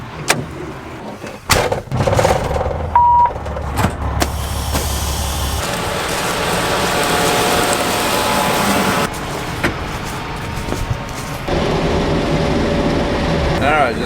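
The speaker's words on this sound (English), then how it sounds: "Got to turn the truck around." A farm truck maneuvers and turns around in a harvest field, its engine idling and revving with clunks and rattles, shifting tone partway through, while a person talks intermittently.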